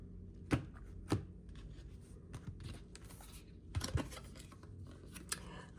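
A deck of tarot cards is cut and handled close by, with a few sharp card snaps and riffling slaps spread across the moment, faint and soft against a quiet background with no talk.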